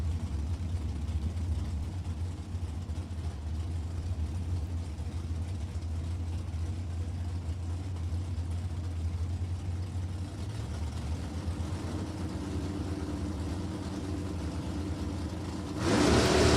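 A Chevelle drag racing car engine at Maple Grove Raceway rumbles steadily at low pitch, shifting in tone near the end before a louder surge of revving in the final second.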